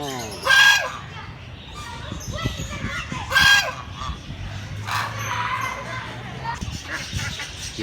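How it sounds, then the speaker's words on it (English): Birds calling in Gulshan Iqbal, Karachi, with loud honking goose-like calls in two bursts and fainter chatter between, under background voices. "Birds."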